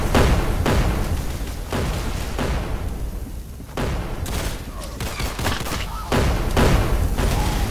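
Gunfire in the Roblox shooter Arsenal comes as rapid bursts of loud, close shots, several volleys in quick succession with brief gaps between them.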